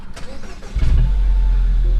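A 2013 Mini Cooper S Coupe engine cranks and fires, with a short starter whirr giving way to a loud, close idle rumble that settles and holds steady.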